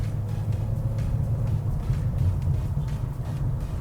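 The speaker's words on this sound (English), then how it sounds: "while I'm accelerating, guys, is in eco mode, the engine is quieter." Geely Emgrand Premium car engine accelerating in eco mode on an open road, a subdued steady low hum and rumble from inside the cabin, continuous and fairly quiet with no talk.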